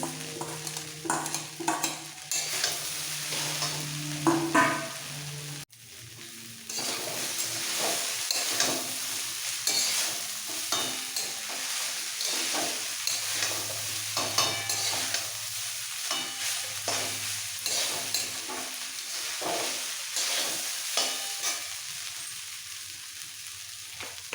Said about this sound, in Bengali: এবার দিয়ে দেবো সমস্ত সবজিগুলো ভেজে রাখা সবজি ফুলকপি গাজর বিনস সাথে কিশমিশ